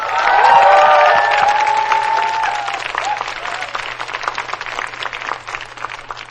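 Concert audience at a televised music show applauding the backing band, sustained dense clapping with some cheering, loud at first and gradually thinning out, with no talk over it.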